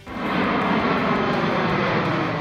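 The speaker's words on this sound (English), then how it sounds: "the low hum of an airplane engine" Steady low airplane engine hum, a constant broadband drone filling the whole stretch at even loudness with no voices.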